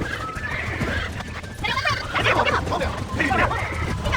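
Horses whinny and snort in a Red Dead Redemption cowboy scene, their calls rising over a steady bed of game ambience and hoof sounds, with someone talking in between.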